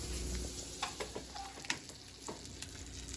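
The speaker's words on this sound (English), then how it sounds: "I'm gonna go ahead and crack this egg for her." An egg frying in a pan sizzles steadily and close up, with a few scattered clicks and taps of stirring over the hiss.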